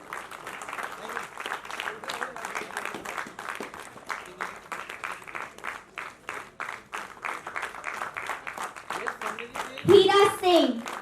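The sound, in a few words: audience applause at a Hindi play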